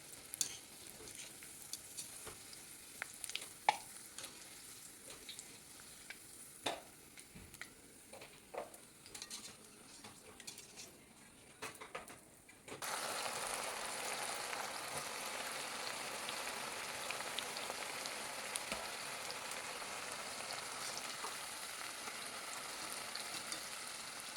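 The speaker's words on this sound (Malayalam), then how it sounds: "നമുക്കിതിൽ അണ്ടിപ്പരിപ്പും മുന്തിരിയും കൂടെ പൊരിച്ചെടുക്കാം" Cashew nuts and raisins fry in hot oil with a sizzle that starts soft and patchy, broken by small pops and stirring clicks, then swells abruptly into a steady, dense hiss like rain for the rest of the time.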